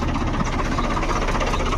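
A tractor engine idles steadily and close by, a continuous low rumble with a rough knocking throb, heard alone without talk.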